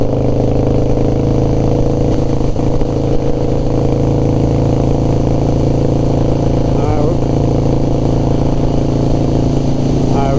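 A Harley FXR motorcycle engine idles steadily and loudly nearby, with a continuous throbbing drone and occasional clattery blips, and a person speaks briefly.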